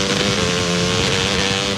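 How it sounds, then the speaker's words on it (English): A dirt bike engine drones loud and steady throughout as an advert sound effect, a continuous buzzing motor note without pauses or voices. "You wouldn't ride your dirt bike blindfolded."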